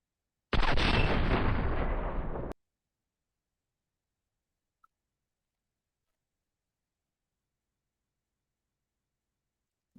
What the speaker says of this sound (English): so I'm gonna fire it now in slow 50